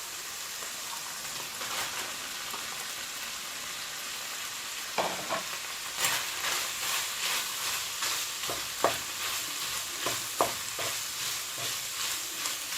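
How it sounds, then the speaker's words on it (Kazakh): Onions and meat fry for lagman in a hot pan, giving a steady soft sizzle throughout, with scattered scraping clicks from stirring that grow more frequent in the second half. No one speaks. "Етім қуырылды, қазір мен пиязды саламын."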